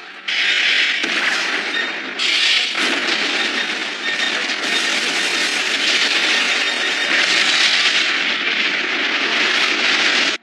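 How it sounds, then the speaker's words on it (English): An animated series shows a torpedo explosion destroying a submarine, heard as a loud, sustained, broadband roar that churns continuously for about ten seconds with no voices. "I hear an explosion. The Way Nation sub has been destroyed."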